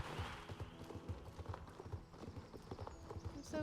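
Horse hooves clip-clop in a steady, even rhythm on a hard surface, clear and fairly close, with faint background sounds and occasional soft voices.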